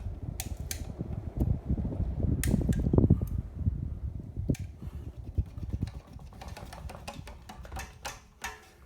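A Casablanca Delta II 50-inch ceiling fan motor spinning up to speed, with soft mechanical clicks and ticks over a low whirring hum, close by and fairly quiet.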